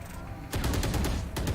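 Rapid gunfire in a battle royale shooter, a close, dense burst of repeated shots that stops briefly and then resumes with a few more cracks.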